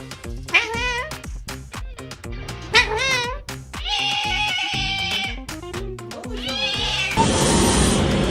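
A jealous house cat meows up close, several drawn-out wavering meows over a steady beat of music, ending in a burst of noise.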